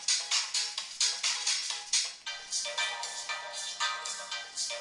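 Ringtones on an HTC Hero phone play in quick succession, a bright, steady run of repeated melodic pulses up close, with no talking over them.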